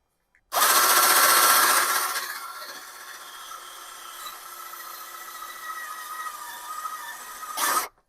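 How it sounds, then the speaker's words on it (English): A power drill whines loudly at first, then settles into a steadier, quieter grinding hum as it drills out spot welds in a Mazda's car body metal, ending with a brief final burst. "We've got a couple more spot welds to drill out"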